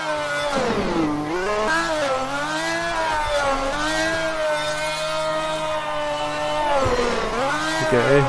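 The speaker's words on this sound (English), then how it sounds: "We're getting a burnout." Ferrari Formula 1 turbo car doing a burnout at the Mugello circuit: a loud, close, sustained high engine howl with wavering pitch that dips and climbs again, ending in a rising rev.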